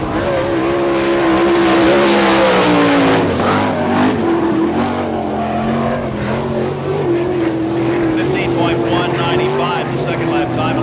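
Fred Raymer's sprint car, driven for Al Hamilton, roars loudly through qualifying laps on a dirt oval in Barberville, Florida, its engine note rising and falling as it circles, with an announcer talking over it throughout.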